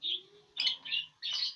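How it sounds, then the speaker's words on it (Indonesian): Cobalt lovebirds in a colony cage give bright, high chirps in three or four short bursts, close and fairly clear, with no talking. "Begini kalau burung nih"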